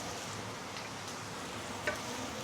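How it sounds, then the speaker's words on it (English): A steady, faint sizzle of roast pork pan frying, an even crackling hiss with no voices. "This is only 1 minute sauteing of pan frying."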